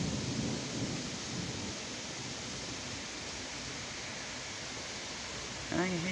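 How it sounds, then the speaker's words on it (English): Low rumbling thunder rolls through a steady wash of rain during a storm, with a brief louder burst near the end; no clear words are spoken. "Thunder."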